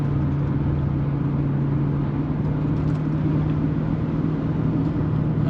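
A Lexus LS400 (Celsior) with a 1UZ VVT-i V8, recently repaired, cruising along with a steady low engine drone, a constant hum and road rumble from inside the car. The sound is even and continuous, with no talking.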